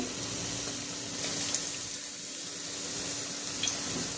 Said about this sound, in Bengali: এখন এই যে বেগুনি দিচ্ছি।